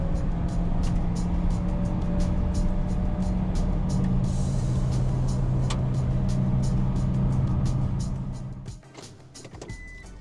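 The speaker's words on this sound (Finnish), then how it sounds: "Moottoritiellä auton pieni moottori joutuu kovalle rasitukselle lyhyen välityksensä vuoksi." Small engine of a 2006 Mitsubishi Pajero Mini revving hard at high rpm on a motorway, a steady loud drone with road and wind noise that fades out near the end.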